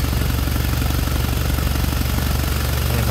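An idling engine hums steadily while air blows from its oil filler cap, a constant close drone with a low rhythmic pulse throughout.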